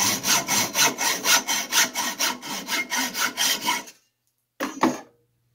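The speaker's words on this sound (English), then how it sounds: "But start to cut by pulling backwards, holding the saw up nice and straight." A hacksaw cuts through a brass oil lamp part in steady, even back-and-forth strokes, loud and close, then stops abruptly, followed after a pause by one last short stroke.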